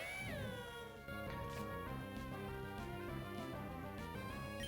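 Litleo, a Pokémon, gives its cry in a Pokémon game, a cat-like wailing call that opens with a falling tone and holds over steady game music without talk.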